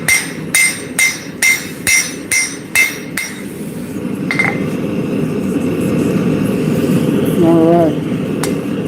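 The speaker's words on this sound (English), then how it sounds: "Switch to a lighter hammer." A lighter hammer rings on a blade edge at the anvil in about eight sharp, evenly spaced metallic strikes, then a steady roaring forge or engine hum carries on beneath a brief voice.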